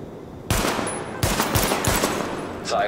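Gunfire at highlighted weapon test targets in the video game The Division: four sharp, loud shots spaced about half a second apart, each with a short decaying tail.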